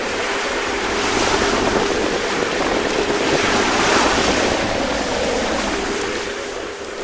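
Ocean waves surge and rush around a tiny sailboat crossing the Pacific, a loud, continuous roar of surf and spray with wind buffeting the microphone and swells rising and falling.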